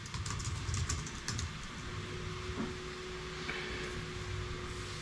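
Fast keystrokes on a computer keyboard as a password is entered during a software install on a Raspberry Pi 4B, a quiet rapid clatter of taps over a steady hum and faint background noise.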